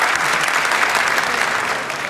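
A studio audience on a Turkish talent show breaks into steady, dense applause, a continuous wash of clapping hands that holds loud and even for the whole stretch.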